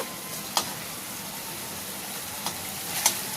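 A chicken pakora mix sizzles quietly in a pan, giving a steady frying hiss broken by a few sharp stirring clacks, near and fairly soft.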